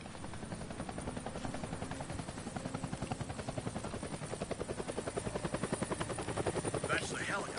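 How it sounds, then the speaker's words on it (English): Helicopter in the video game Deadlight, rotor blades thudding in a rapid, steady rhythm that swells slightly as it chases characters, with gameplay sounds around it. "That's the helicopter chasing my friends."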